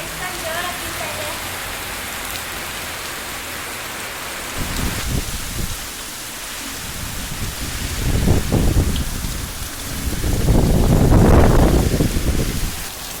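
Steady rainfall hisses throughout, joined by surges of louder noise and gusts that swell and fade toward the end.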